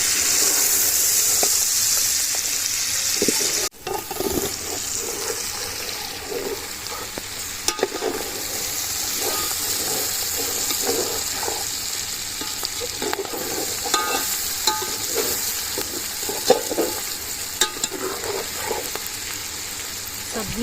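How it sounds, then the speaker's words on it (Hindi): Chicken frying with peas and mixed vegetables in a pot over a village wood fire for chicken yakhni pulao, a steady close sizzle with intermittent stirring scrapes running throughout. "अब सारी सब्जियों के साथ फ्राई कर लेंगे चिकन को भी"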